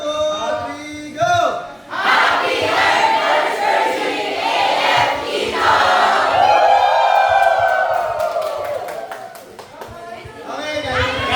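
A group shouts a cheer together at an AF Eton anniversary gathering, a loud rising collective yell with whoops and clapping that holds for several seconds before fading into chatter.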